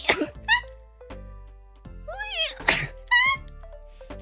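Several sharp sneezes sound up close, each a sudden breathy burst, with quieter vocal noises between them in a quiet indoor room.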